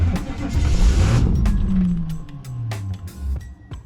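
A car engine that has sat unused for two months fires up and revs loudly, its roar rising and falling close by before settling toward idle, with voices faintly underneath.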